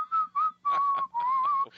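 A man with a Scottish accent whistles a rock melody in four sustained, tuneful phrases separated by short breaths, close and clear with no talking.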